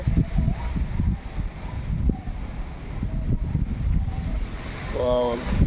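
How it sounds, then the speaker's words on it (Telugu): Gusty wind rumbles steadily against the microphone with a low, blustery roar, and a voice briefly speaks near the end. "గాలి అయితే బీభత్సంగా వస్తుంది"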